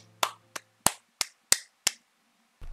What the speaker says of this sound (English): Can we give him a clap, ladies and gentlemen?